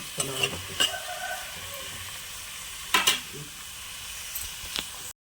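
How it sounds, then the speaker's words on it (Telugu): A tempering sizzles softly in a pan, a low continuous frying hiss broken by a few sharper crackles and stirring clinks. "ఇదిగోండి తాలింపు వేగింది"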